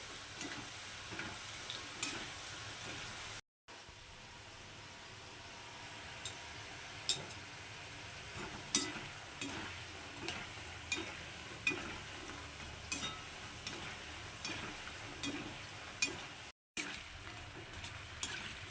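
Nimki dough strips deep-frying in hot oil over a low flame, a soft steady sizzle with scattered crackles and clinks of stirring throughout, close up and without talk.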